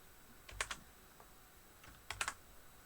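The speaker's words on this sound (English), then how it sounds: "Me typing messes it all up" Computer keyboard typing during a Photoshop livestream, two short, close bursts of rapid clicking keys separated by a quiet pause.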